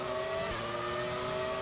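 High-revving engine of the 1995 Benetton F1 car in the F1 2020 racing game, a loud, steady sustained whine with strong harmonic tones holding throughout, alone without talk.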